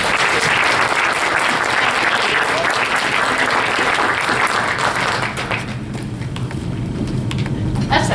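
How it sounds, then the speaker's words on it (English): Audience applause for a 2016 Doster Award winner at a TYCA-Southeast conference, dense and loud clapping filling a room before thinning out and fading in the last few seconds. "please let's give a round of applause to the 2016 Doster Award winner"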